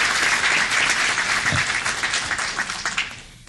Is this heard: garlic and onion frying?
no